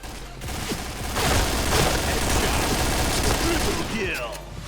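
Rapid rifle fire from an AUG assault rifle in the shooter game PointBlank, a dense fusillade of shots running loud and continuous through most of the clip, with a faint voice mixed in.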